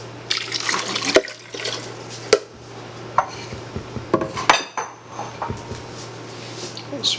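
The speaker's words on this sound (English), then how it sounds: "we're gonna put 3 cups of water" Three cups of spring water are poured into a blender cup for a Brazil nut shake with sea moss and hemp seeds, with liquid splashes, drips and light clinks of kitchenware standing out over a steady low hum.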